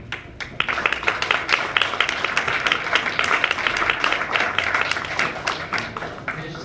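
A ceremony audience breaks into steady, dense applause, many hands clapping together at moderate volume with some louder claps standing out, and the clapping holds for several seconds.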